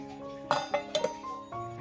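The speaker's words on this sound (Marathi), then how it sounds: "त्याच्यावरून आपण एक प्लेट ठेवून देऊया।" Several sharp ceramic clinks as a plate is set down over a bowl of soaking rice, four quick knocks in close succession, near and fairly loud.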